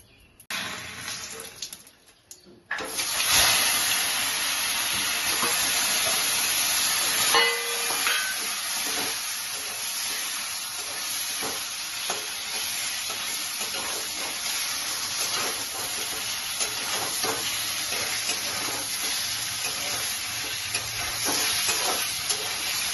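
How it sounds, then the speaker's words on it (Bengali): Paneer sizzles loudly in hot refined oil and butter in a kadai after a quiet start, a dense crackling hiss that persists with occasional stirring clicks, no one talking. "কড়াইতে এবার তেল দিব, রিফাইন তেল, পনিরটা ভাজার জন্য"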